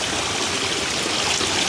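Water pours steadily from a spring-fed waterfall across from a basketball ground, a dense, continuous rushing wash that fills the clip without pause and with no voices.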